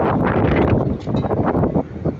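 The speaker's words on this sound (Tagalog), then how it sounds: "Hangin kayo." Strong gusting wind at a construction site buffets the microphone, a loud rough roar that swells and dips over a couple of seconds.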